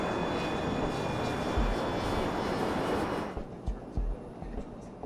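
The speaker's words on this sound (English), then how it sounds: "The crew is flying an Avro 146 regional jet." The four engines of an Avro 146 regional jet in flight give a steady, broad roar, then ease abruptly into a lower, quieter hum with soft thumps and rattles.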